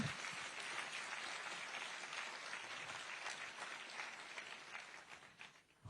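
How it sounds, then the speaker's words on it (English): Audience applause during a speech at the All India Institute of Medical Sciences, a fairly quiet, distant, sustained patter of many hands clapping that tapers off near the end. "you can give a round of applause for that"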